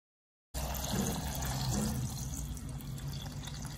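Water pours steadily into a container of grapes for homemade grape juice, a continuous soft splashing and gurgling stream that starts abruptly and carries on close by without speech.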